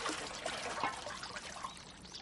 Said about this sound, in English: People rinse out pots in the tanks and clean their freshly picked vegetables.